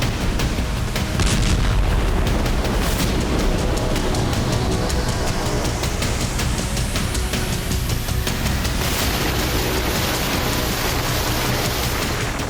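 Explosions at Belbek airbase in Sevastopol, Crimea, during a Ukrainian strike: repeated booms and rumbling blasts over a dense, continuous roar, with a few sharper bangs standing out.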